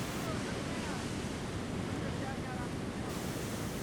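Ocean surf on the Oregon coast at Yachats roars as a continuous broadband rush, steady and fairly loud, with wind buffeting the microphone throughout.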